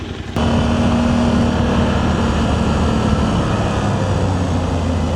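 A 2026 Suzuki V-Strom 800 motorcycle engine holds around 5,000 RPM on a twisty mountain road up Doi Suthep near Chiang Mai, a steady loud drone mixed with rushing wind noise, without speech.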